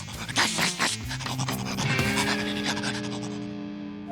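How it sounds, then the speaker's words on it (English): A cartoon dog pants in quick, rough breaths. The rasping bursts come loud and close, then give way to a sustained tonal cartoon sound with no talking. "Just look at Gnasher, the best kept dog in the world"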